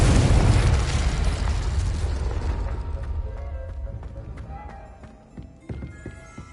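A fire spell cast in the Hogwarts Legacy video game erupts in a loud burst that rumbles and fades over several seconds, leaving scattered small pops and clatter.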